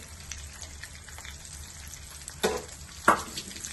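Chopped onions sizzle softly in hot oil with cumin in a pan for pav bhaji, a faint steady frying hiss broken by two sharper stirring clatters near the end.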